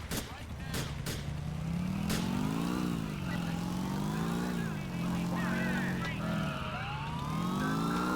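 Motorcycle engine revving in GTA 4, its pitch rising and falling through repeated throttle swells over several seconds, with a siren-like wail and other traffic noise mixed in and someone talking over it.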